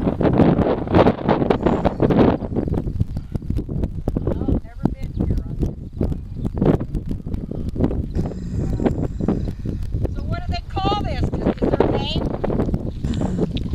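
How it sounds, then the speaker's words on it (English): Wind gusts buffet the microphone at the Owyhee Reservoir overlook, rough and blustery throughout while people talk over it. "Good place for the wind to blow."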